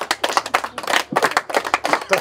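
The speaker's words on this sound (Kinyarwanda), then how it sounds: "amashyi yanyu amashyi menshi" An audience claps in irregular, close, sharp bursts during a Rwandan comedy scene, with voices talking amid the uneven clapping.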